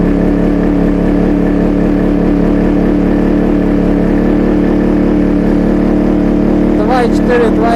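A GTM DK2500iA inverter generator, sitting on a table, runs loud and steady under rising load, a constant engine drone throughout with a faint voice-like sound near the end.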